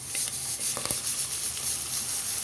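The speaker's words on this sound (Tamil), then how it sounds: "ஒரு 1 மினிட் வதக்கி விட்டுடலாம்." Onions sizzle and crackle steadily in a hot pan, with a few soft scraping stirs, close and moderately loud.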